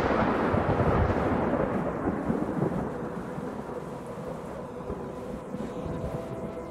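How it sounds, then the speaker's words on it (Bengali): A deep, rolling thunderclap booms loud at first and slowly fades away into a distant rumble with faint rain, alone without any voices, in a Bengali horror audio story. "কাছাকাছি কোথাও একটা বাজ পড়ল যেন"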